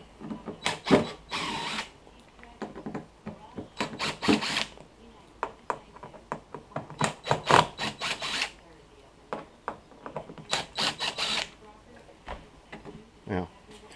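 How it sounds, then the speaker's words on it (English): A power drill backs old screws out of a beer cooler hinge in short whirring bursts separated by pauses and clicks, close and fairly loud. "I'm going to remove the old screws"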